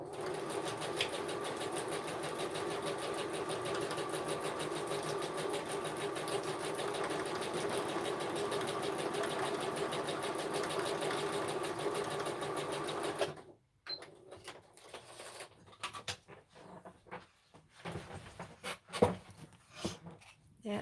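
A sewing machine stitches a small circle with a continuous close whirring hum for about thirteen seconds, then stops, leaving faint scattered clicks and handling noises.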